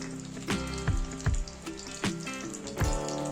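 Mustard oil goes into a wok for a vegetable dish of ridge gourd and gram-flour fritters. Soft frying hiss sits under several sharp metallic clanks and knocks of utensils against the pan, with no one speaking.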